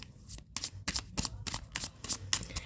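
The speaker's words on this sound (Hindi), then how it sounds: "Last shuffle." A deck of tarot cards is shuffled up close in quick, rhythmic riffling bursts, about eight crisp flutters in under three seconds, alone without speech.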